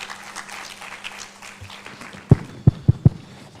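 A conference audience claps briefly at the Safe Motherhood Conference, with soft scattered clapping at first and then a few sharp, close claps near the end, under faint room noise and no talk.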